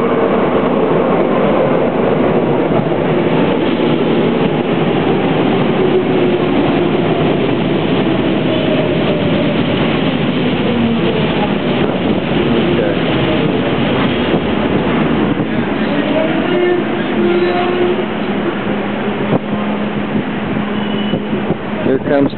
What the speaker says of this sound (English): Now I'm waiting for the metro. Here it comes.